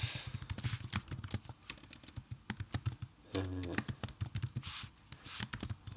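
Someone types code on a computer keyboard in quick, uneven bursts of crisp key clicks with short pauses between runs, close to the microphone.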